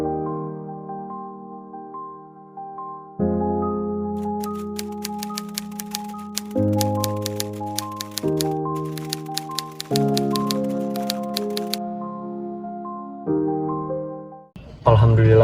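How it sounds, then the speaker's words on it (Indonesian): Rapid clacking of typewriter keys runs through the middle over steady, loud sustained music, with a brief burst of noise at the end. "Apakah di sini ada mesin ketik Laksamana?"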